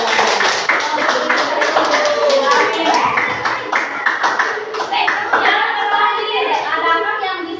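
Children in a classroom clap their hands in quick, crowded bursts of sharp taps that run nearly throughout, close and loud, with young voices talking over the clapping.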